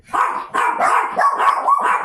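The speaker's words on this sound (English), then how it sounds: "for the level they were barking" Dogs bark in a quick run of about five close, loud barks, some with a yipping edge, on a homestead.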